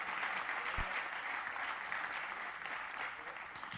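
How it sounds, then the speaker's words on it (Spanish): Congregation in a Spanish-language church sermon applauds continuously for a few seconds, a steady wash of many hands clapping at moderate distance, with a soft low thump early on. "Es digno de que le demos un aplauso a nuestro amado Jesús."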